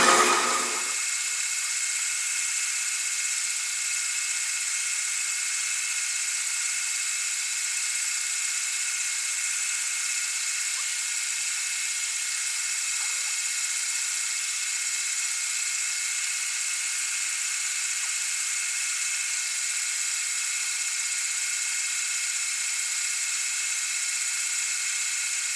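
An electric mixer whips heavy cream toward butter in a steady, loud, high whir that holds at the same pitch and runs alone after a brief start.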